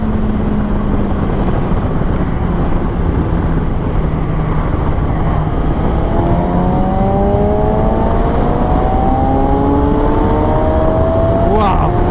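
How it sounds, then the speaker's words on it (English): A 2014 Kawasaki ZX-6R 636 supersport motorcycle drops two gears while riding, its loud, close engine note climbing in rising pitch sweeps toward the end over steady wind rush. "Let's shift down 2 gears"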